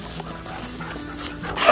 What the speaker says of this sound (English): Well, the dogs are out.